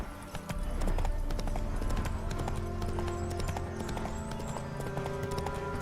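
A horse gallops in The Witcher 3 video game. Hooves clip-clop in a fast, steady rhythm throughout, loud and close, over a constant ambient game background.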